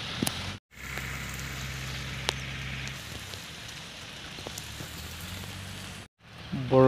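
Steady rain falls in a broad, even wash, moderately loud and close, with occasional sharper drops against a surface; two brief dropouts break the noise and no one speaks.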